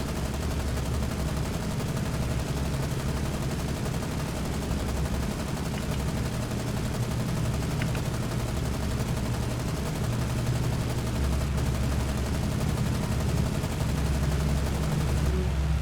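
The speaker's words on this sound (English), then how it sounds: "Well, you shoot your gun." Naval gunfire from a warship's deck guns in the naval combat game War on the Sea, a steady dense barrage of rumbling shots under constant low engine and sea noise, loud throughout with no pauses.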